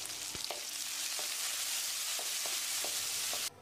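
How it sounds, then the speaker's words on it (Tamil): Onions, green chilli and chopped tomato sautéing in a pan for hotel-style tiffin sambar, a steady close sizzle with a few sharp spoon clinks and stirring taps, ending abruptly. "தக்காளி மசிகிற அளவுக்கு வதங்க வேண்டியதில்லை, சாம்பாரில் அங்கங்கே தெரிகிற அளவுக்கு வதங்கினா மட்டும் போதும்"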